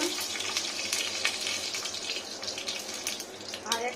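Dry red chili dropped into very hot mustard oil crackles and sizzles steadily at close range, a broad continuous hiss with scattered pops throughout.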